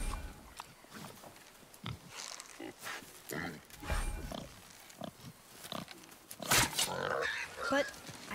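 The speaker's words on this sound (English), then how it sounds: "Could the boar be magical?" Boar grunts from the video game God of War, short snorting bursts scattered through the stretch amid combat effects and a character's voice talking, moderately loud and irregular.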